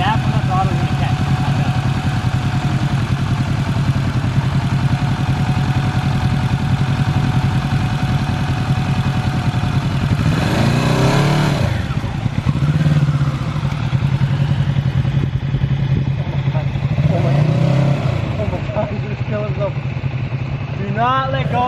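A 2020 Kawasaki Z650 motorcycle engine idling and pulling away slowly on the clutch, a steady close engine hum with revs rising and falling, under continuous talking.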